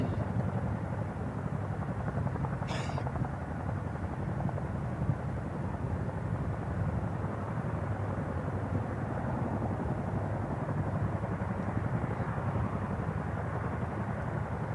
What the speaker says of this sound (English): Now the Chinook helicopters have completed their mission and are moving on to the next mission